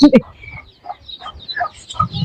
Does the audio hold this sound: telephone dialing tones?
no